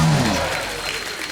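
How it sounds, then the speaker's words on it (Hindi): Audience applause for a guest on a TV comedy show, loud clapping at the start that fades quickly into a softer patter with some crowd noise. "उषा दीदी के लिए जोरदार तालियां।"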